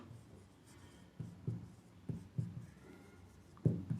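Writing on a board during a preposition lesson, a series of short scratchy strokes spaced irregularly, close and moderately loud, with no talking.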